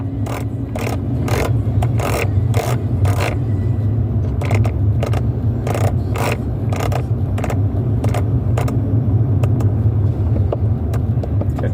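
Repeated clicking ratchet ticks from hand-turning the clock adjuster inside a Mercedes-Benz W204 C180, coming in irregular bursts over a steady low engine hum in the cabin.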